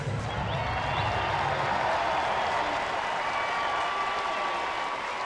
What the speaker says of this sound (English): another standing ovation for Torrey Hunter